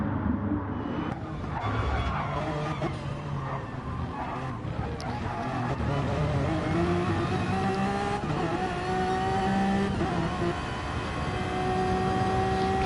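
A race car in a racing game at the Le Mans endurance event threads the Porsche chicanes, engine roaring steadily with pitch rising and falling through gear changes and corners, loud and close throughout.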